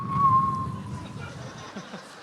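A voice imitates the wind whistling, producing a sustained high whistling tone that slowly fades, ending in brief breathy sounds.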